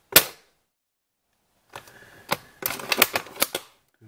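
An airsoft sniper rifle fires Madbull light blue .36 g BBs. One sharp, close snap is followed by a pause, then a cluster of quick clicks and cracks.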